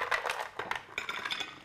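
Ice cubes tumble from a kitchen blender onto a plate, giving a close, quiet run of irregular hard clinks and rattles.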